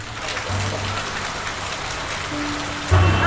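Heavy rain falling in Kodaikanal, a dense, steady hiss of drops striking surfaces, loud and continuous with a brief low thump near the end.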